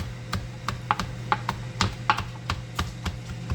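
A knife chopping cabbage finely on a board during a chicken and cabbage stir fry, a steady series of sharp, light taps at an even rhythm, fairly close, with a low steady hum underneath.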